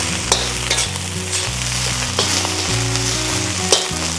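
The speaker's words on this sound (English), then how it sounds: "So we add the Chinese sausage, give it a quick stir fry." Chinese sausage stir-fried with yellow fried rice sizzles loudly in a hot pan, with steady frying hiss and repeated rhythmic scrapes and clanks of a spatula tossing the food.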